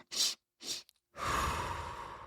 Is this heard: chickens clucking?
no